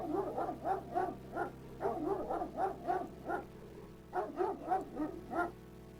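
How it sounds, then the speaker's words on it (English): Ghost dog in King's Quest VII barking in repeated bursts of three or four yelps, with short pauses between groups, fairly close and clear over a steady low game-music hum. "I always find that ghost dog very disturbing"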